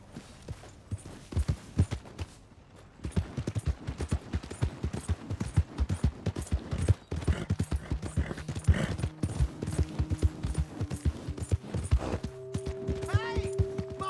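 Horse hooves clip-clop in a rapid, steady gallop rhythm within Red Dead Redemption 2, with game sounds and a tonal hum joining later.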